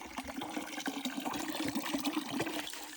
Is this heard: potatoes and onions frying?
no